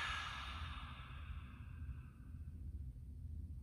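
A slow, breathy exhale during a children's yoga breathing exercise, airy and soft, fading over the first second or so into a quiet, low background.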